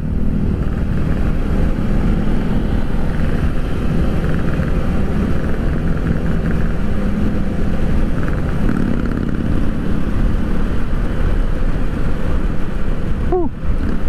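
Harley-Davidson motorcycle accelerating on a city road toward a flyover, a steady loud engine drone running throughout with broad low rumble, heard from close by in traffic.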